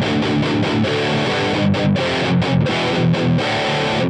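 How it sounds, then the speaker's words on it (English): A loud electric guitar with heavy overdrive distortion plays a steady run of chugging notes, full and saturated, with the bottom end tamed, no voices. "Let me hit the overdrive."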